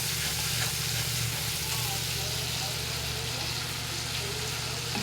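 Ginger paste sizzles in a pan over low gas heat while a vegetarian potol dish is cooked, giving a steady, even frying hiss throughout with a voice faintly present underneath.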